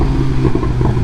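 A BMW S1000 RR motorcycle engine revs loud and close, a dense, steady mechanical roar with a low throbbing hum, heard alone for a moment.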